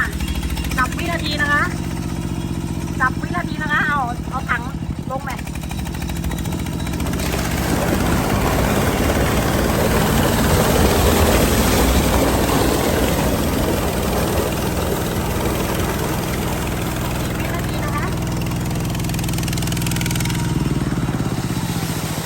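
A loud engine-driven 10-inch water pump drones steadily for the whole stretch, rough and close, with brief voices near the start.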